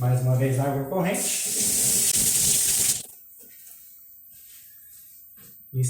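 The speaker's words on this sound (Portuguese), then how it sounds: "Mais uma vez água corrente." Tap water runs for about two seconds, rinsing freshly brushed silverware clean, a steady bright splashing rush that follows a brief voice and then cuts off to near silence.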